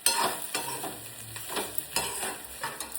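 Bitter gourd curry sizzles in a hot tempering with wet spice paste, and a spoon stirs it in repeated scraping strokes close up.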